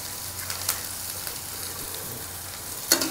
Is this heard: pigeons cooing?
no